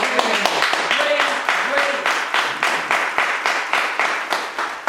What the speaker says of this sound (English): Can we clap hands for this?